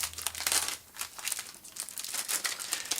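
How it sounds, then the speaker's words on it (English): A clear plastic bag from a Shanling CA80 amplified CD player box crinkles and rustles up close, with bursts of crackling rising and falling over about three seconds and no talking. "It's got a clear plastic bag."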